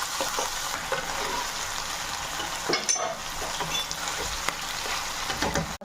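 Chicken masala for a restaurant-style gravy fries loudly in a pan, with a steady close sizzle and the scrape and clatter of stirring running through it.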